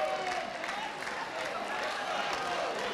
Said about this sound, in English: Clap your hands and make some noise in the house.